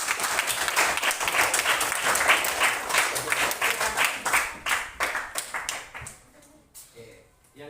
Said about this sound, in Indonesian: beri tepuk tangan buat Nasra.